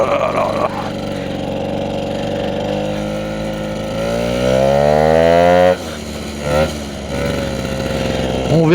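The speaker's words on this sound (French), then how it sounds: "Ouais, la courroie elle patine." An MBK scooter with a slipping variator belt strains while climbing, its engine droning with a rising, wavering pitch that surges and drops abruptly, loud and close, with a voice speaking over it at times.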